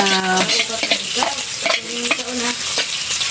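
Onion and aromatics sauté in a hot pan, a loud continuous sizzle broken by repeated scraping strokes and metallic clinks of a spatula against the pan.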